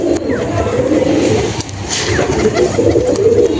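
Madras pigeons coo in low, continuous rolling murmurs, loud and close, with several birds overlapping.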